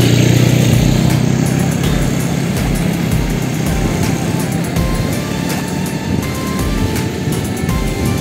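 An ATV engine, 150 or 200 cc automatic, revs loudly on a beach, its rough throaty drone rising and falling close by over a steady background of surf and wind.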